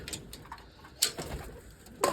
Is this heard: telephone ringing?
no